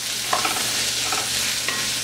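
Onions stirred and frying in coconut oil in a pan over medium-low flame, a steady close sizzle with a few soft scraping stirs of the spatula.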